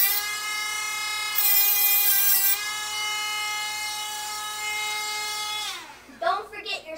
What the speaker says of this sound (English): Cleaning up the burrs a little bit.